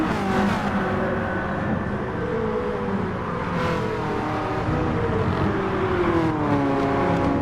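Race cars at Le Mans in GT Sport, with a loud continuous engine drone whose pitch sweeps up and down as cars accelerate and shift, other cars audible close behind.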